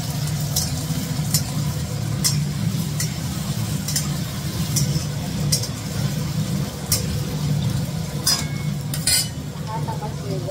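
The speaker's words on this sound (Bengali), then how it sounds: "দেখুন আলুটা ভাজছি।" Potatoes fry in a pan on a home kitchen stove with a steady sizzle, broken by sharp clinks and scrapes of a utensil stirring against the pan every second or so.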